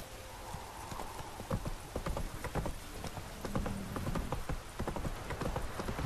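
Horse hooves gallop and clip-clop in The Witcher 3 video game, a quick rhythmic drumming of hoofbeats close by with a brief whinny, heard alone without talk.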